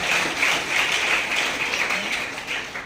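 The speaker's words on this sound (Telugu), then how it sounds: "ప్రత్యేక విధంగా అందరికీ చప్పట్లతో వందనాలు తెలియజేస్తాం" An audience at a church festival claps together in sustained applause, a dense steady patter of many hands heard from a short distance with no voices over it.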